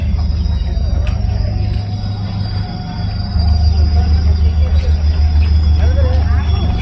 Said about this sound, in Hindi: सो ये आ गई है मेरी ट्रेन